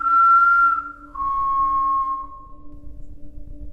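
A loud, clear two-note whistle used to call a dog, a high pitch sliding down into a lower sustained tone that fades out over a low background hum, heard around 4 or 5 in the morning.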